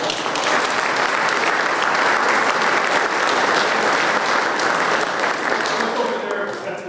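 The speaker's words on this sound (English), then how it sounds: "let's give a round of applause to the culinary department and other amazing dinner" A large dinner audience gives a loud, sustained round of applause for a culinary staff, dense clapping holding steady for several seconds and thinning slightly at the end.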